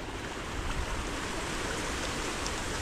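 Water gushes fast and steadily from irrigation hoses watering calamansi trees, a loud, close, unbroken rushing hiss with no talk.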